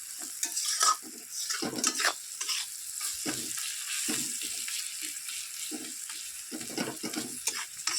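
Onions fry in a pan with a soft, low sizzle broken by frequent scraping stirs of a utensil, quiet and close with no voices.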